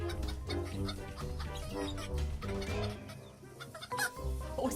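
A person imitates a hen with a run of rhythmic throaty clucks, close and fairly loud, with no other voice heard.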